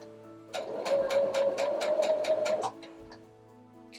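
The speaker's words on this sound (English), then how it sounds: "I'm going to lower the presser foot and be sure to pull the pin out, and then you just continue sewing." A home sewing machine stitches fabric at a corner with a steady mechanical whir and rapid even ticking, running for about two seconds before stopping, alone with no voice over it.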